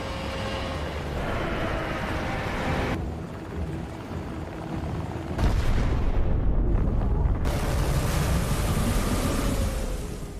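A ship blown in two for an underwater blast booms and rumbles in a long, dense roar that shifts abruptly in character several times, loud and close with a heavy low surge midway, no voices.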